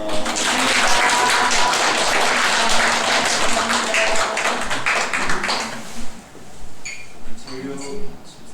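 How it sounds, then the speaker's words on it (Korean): A church congregation applauds in welcome during a Sunday service, a dense run of clapping that fills the first six seconds and then thins out into scattered claps and voices. "박수로 환영합니다."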